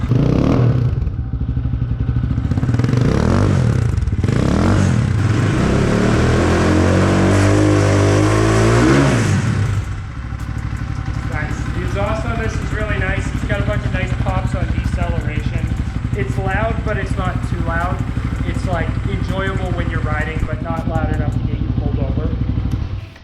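A 2024 Templar 250 dual sport motorcycle engine with a titanium exhaust revs loudly for several seconds, then drops to a steady, rumbling idle while a person talks over it.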